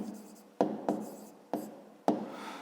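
A pen writes a math answer on paper in four quick, close scratching strokes, each starting sharply and fading before the next, quiet and alone.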